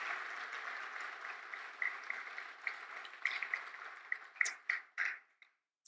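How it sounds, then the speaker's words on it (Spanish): Church congregation applauding a generation of grandparents during a Sunday service, a broad wash of clapping that thins out near the end into a few scattered, separate claps before stopping. "una vez más felicitáramos con un fuerte aplauso a una generación tan hermosa de abuelos"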